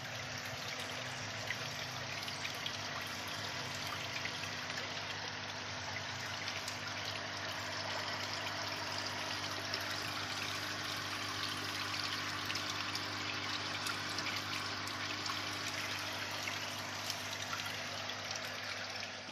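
A water pump aerates water in a recirculating aquaculture system filter for fish tanks, giving a steady, continuous rush and trickle of moving water with a low hum underneath, unbroken and fairly close throughout.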